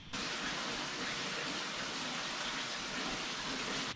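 A waterfall in Iceland roars as a dense, constant rush of falling water, loud and unbroken throughout.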